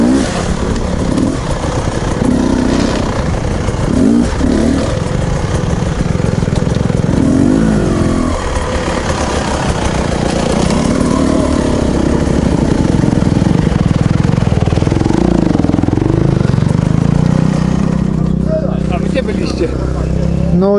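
Four-stroke motorcycle riding through wet terrain, its engine droning steadily and loud throughout with rising and falling revs, while people talk over it.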